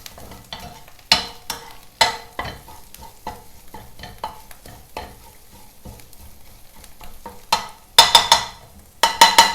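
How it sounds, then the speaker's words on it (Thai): Stir-frying curry paste in a pan: a steady sizzle broken by repeated sharp scraping and clanking strokes against the pan, with louder bursts of clatter near the end. "เราผัดพริกแกงให้หอมก่อนนะคะ"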